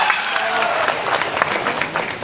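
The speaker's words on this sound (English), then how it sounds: "Let's give up a big round of applause for Mr. Karnataka." An audience at a Mr. Karnataka pageant event gives a big round of applause, a loud, continuous crowd clapping that swells slightly, with a voice briefly audible beneath it.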